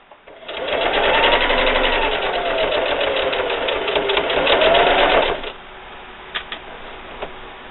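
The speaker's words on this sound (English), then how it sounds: "and just keep sewing" A sewing machine stitches a quilt-as-you-go patriotic table runner, running in one steady, loud, close burst of rapid needle clatter for about five seconds, then stopping with a few faint clicks afterward.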